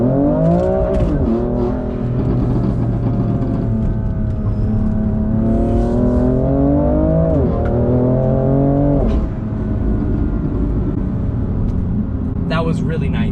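A BMW F80 M3 Competition pulls through a track corner, its engine note loud and close, droning steadily and rising and falling in pitch as it revs, with a brief lift and pickup midway, and speech over it.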